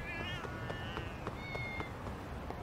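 A cat meows repeatedly in the video game Lost Judgment, with several clear, rising and falling calls close up over a steady bed of game background sound.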